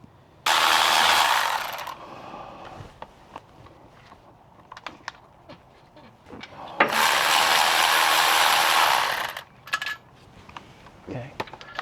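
Ratchet wrench removing a 14 mm alternator bolt on a first-generation Toyota Sequoia, two sustained bursts of rapid clicking separated by scattered metallic taps and handling clatter.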